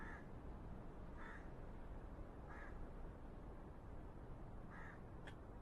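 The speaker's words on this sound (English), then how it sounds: "all I can hear are crows" Crows caw in a series of distinct calls spaced about a second apart, faint and a little distant over a quiet hiss, with one sharper chirp near the end and no voices.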